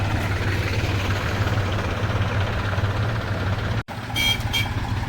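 A tractor engine idles nearby with a steady low rumble that drops out for a moment, then resumes with a few faint high beeps.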